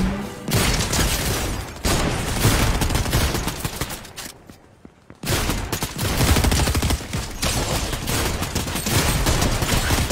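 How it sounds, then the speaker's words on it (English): Loud, dense automatic gunfire from hip firing in a squad-based shooter game fills the clip in continuous bursts, with one short pause in the middle before the shooting resumes. "Yes, I am hip firing."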